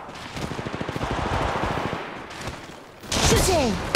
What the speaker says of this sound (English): Shooting! I'm taking the shot!